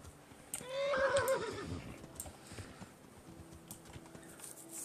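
A horse whinnies once, fairly close and loud, in the medieval video game Kingdom Come: Deliverance, followed by faint hoof clip-clop and game ambience with no speech.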